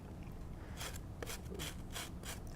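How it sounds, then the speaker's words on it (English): Vegetables for kimchi or sauerkraut rasp against a handheld grater in a series of rough, scraping strokes, fairly close and fairly quiet, with no talking. "If you want to use what some people call a cheese grater, I call it a vegetable grater."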